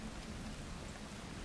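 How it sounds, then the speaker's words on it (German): Steady rain patters on a ship's deck in a dark storm off a coast, a constant even wash of drops with a low rumbling undertone throughout, no voices. "Der Regen prasselt aufs Deck und der Wind schneidet euch unangenehm ins Gesicht."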